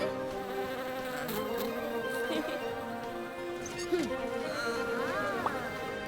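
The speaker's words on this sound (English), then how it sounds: "A friendly little bee." A cartoon bee gives a steady, wavering buzz that drones on throughout, with cartoon music and effects layered over it.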